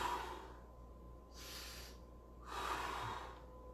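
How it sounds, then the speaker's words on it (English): Slow, deep breathing during a stretching exercise in an online martial arts class: two long, breathy exhalations rise and fade over a steady background hum, close and fairly quiet, with no talking. "So continue to have your long breaths."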